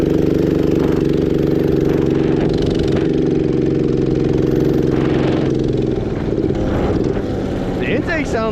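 A 212cc engine swapped into an Axis M200 minibike runs with strong intake noise, a steady droning hum that shifts pitch near the end, heard up close while riding.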